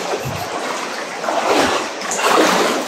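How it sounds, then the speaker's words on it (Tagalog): Walang Langit Falls, a forest waterfall, rushing and splashing water heard nearby as a continuous hiss and spatter that surges in a couple of louder waves, with no voices over it. "Naririnig ko na ang tinatawag nilang walang langit falls."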